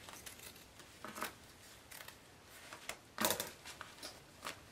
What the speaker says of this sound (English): At some point, I usually just get sick of it and cut it with scissors.